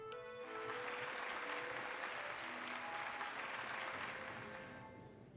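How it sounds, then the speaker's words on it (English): Crowd applause in the video game Hollow Knight, a dense, loud burst of clapping that holds steady and then fades, with faint game music tones in the background. "Hear how the crowd adores you."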